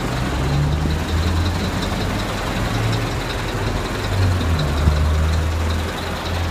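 A truck engine idles on a street in Japan, a steady low rumble with a faint rising and falling hum, heard up close amid continuous street noise and no talking.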